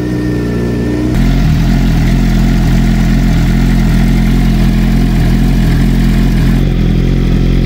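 A Suzuki GSXR 600 motorcycle engine idles loud and close while it warms up after an oil service, giving a steady throbbing rumble after a brief shift in tone at the start.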